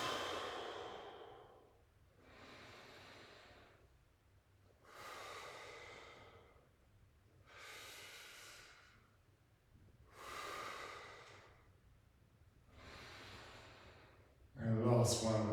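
Slow, audible breaths during a gentle postpartum trunk curl exercise on a mat: six long, even inhale and exhale swells about two seconds apart, close and fairly soft, ending in a brief louder burst.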